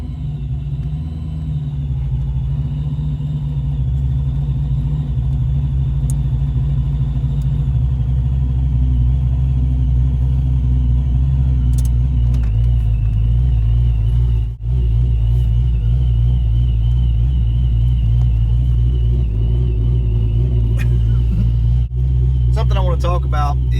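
An automatic Foxbody Mustang with an N51hr camshaft drives along, its V8 rumbling deep and loud with a lumpy, uneven idle-like throb and slight rises in pitch as it accelerates, with occasional sounds of talk.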